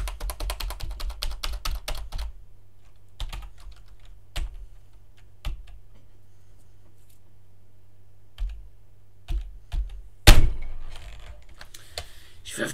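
A faulty computer keyboard clatters under rapid typing, then single keys are struck again and again in sparse, sharp clicks, ending in a loud slap near the close.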